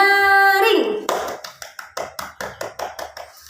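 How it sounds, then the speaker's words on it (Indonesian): A class of children claps in unison after a sustained tone ends, about a dozen loud, sharp, evenly spaced claps at a brisk rhythm, close and clear. "Nah, sekarang tepuk tangan yang nyaring"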